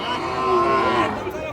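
A single sustained moo from an Indian Sahiwal cow at a cattle market, close and fairly loud, swelling briefly before tapering off.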